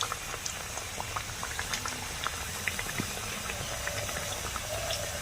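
Nimki, a Bengali savoury snack, deep-fries in oil with a dense, continuous bubbling crackle and fine popping, loud and close throughout.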